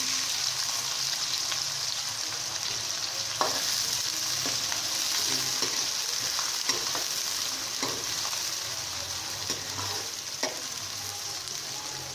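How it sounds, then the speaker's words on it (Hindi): Sliced onions frying with cumin seeds in hot oil in a pan, a constant close sizzle broken by a few soft spatula knocks and stirs, with no talking. "और प्याज को हम गोल्डन ब्राउन होने तक फ्राई करेंगे।"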